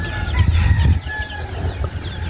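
Chickens cluck and squawk nearby, loud and low, with a bit of fluttering and faint bird calls behind.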